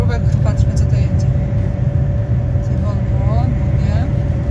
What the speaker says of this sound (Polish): Dobra, jedzie kolejna tura ciężarówek.